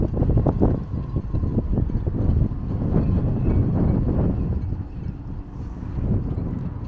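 Strong gusting wind buffets the microphone in heavy, rumbling bursts, loud and continuous, at a seaside point near a port in Dieppe, France.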